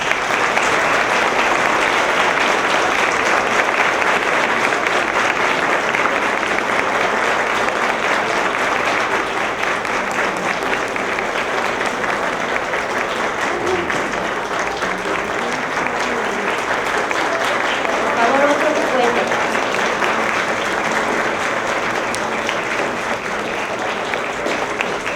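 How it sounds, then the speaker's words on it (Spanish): Sustained applause from a large indoor audience, dense and steady for about twenty-five seconds without letting up, with a faint voice showing through now and then. "Quisiera que llegue este aplauso hasta donde él se encuentre"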